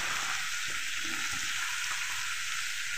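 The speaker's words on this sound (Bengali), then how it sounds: "চিংড়ি মাছটা ভাজা ভাজা হয়ে গেছে, এবার আমি পটল আর কাঁকুর যে কেটে রেখেছিলাম একসঙ্গে দিয়ে দেবো" Shrimp frying with pointed gourd and cucumber sends up a constant, dense sizzle from the pan, close and even throughout with no voices.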